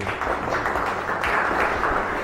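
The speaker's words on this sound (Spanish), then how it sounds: "Un aplauso para la doctora" Audience at a book launch applauding a doctor, a steady wash of many hands clapping together that holds evenly throughout at moderate loudness.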